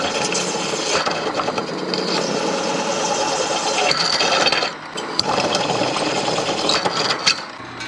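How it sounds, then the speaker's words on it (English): A long step drill bores through a metal wall, giving a continuous harsh grinding whir with rattling chatter that briefly eases partway through before resuming close and loud. "I'm going to drill out a big chunk of it. I'm using this long step drill because I'm going to go through the other wall too."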